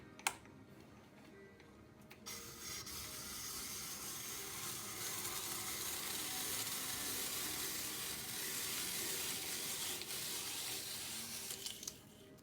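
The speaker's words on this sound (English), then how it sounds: "what this is going to do is going to peel the apple, and at the same time it's going to slice the apple, and then it will core the apple" Hand-cranked apple peeler peeling, slicing and coring an apple: a steady, continuous scraping and whirring that starts abruptly and runs close and moderately loud to the end, with small clicks near the finish, no talk.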